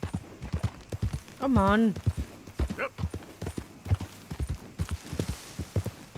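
Horse hooves clip-clopping in a steady rhythm while riding in Red Dead Redemption 2, close and distinct, with someone talking over them and a short horse whinny partway through.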